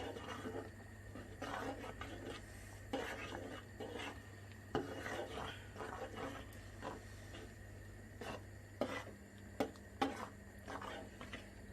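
Beaten egg trickling into a pot of chicken soup while a spoon stirs, giving soft scraping and clinking against the pot under a steady low hum, with light rubbing strokes throughout.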